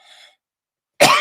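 A single loud, harsh cough bursts out near the end, following a faint breathy sound and a stretch of silence.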